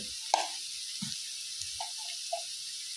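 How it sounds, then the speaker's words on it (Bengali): Jackfruit seeds fry lightly in a pan with ground coriander and cumin, giving a steady, even sizzle throughout, with a few soft knocks and scrapes of a spoon against the pan. "কাঁঠালের দানাগুলো হালকা করে ভেজে নেব একদম হালকা"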